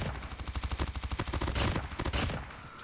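A video game weapon fires a rapid burst of about twenty evenly spaced shots, then a short pause and a few more rounds before the sound fades. The shots are close but fairly quiet, with no speech.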